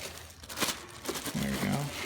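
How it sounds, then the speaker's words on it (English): Plastic wrapping crinkles and tears as a Martin Logan Vanquish speaker is unboxed by hand, with irregular close rustling bursts and a brief voice partway through. "let's rip it apart. Just plastic."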